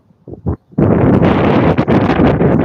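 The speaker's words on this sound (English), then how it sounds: "It's windy out here." Heavy wind buffets the microphone in loud, roaring gusts after a couple of brief thumps, continuous and close.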